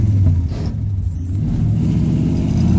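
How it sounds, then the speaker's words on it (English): A 1971 Dodge Demon with worn synchros shifts into second gear, its steady loud engine drone dipping briefly mid-shift amid a rough mechanical grind, close and continuous. "That's a little grind because the synchros are wore out"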